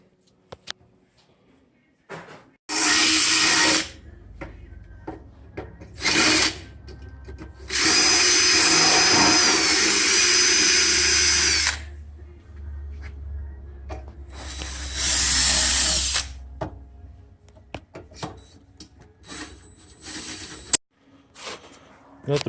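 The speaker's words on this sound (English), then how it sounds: "drill some holes" A power drill bores holes for a winch bracket in several bursts, with two long whining runs and shorter ones between them. Quiet handling noises and faint speech fill the pauses.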